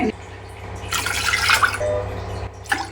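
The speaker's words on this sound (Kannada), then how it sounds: "ನಾನು ಮೂರು ಲೋಟ ನೀರು ಹಾಕ್ತಾ ಇದ್ದೀನಿ" Water pours into a cooking pot for ragi mudde, a steady splashing fill rising in the middle of the clip and then tapering off. Room noise hums underneath and a brief knock sounds near the end.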